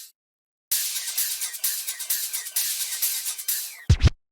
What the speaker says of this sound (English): Just loops, risers,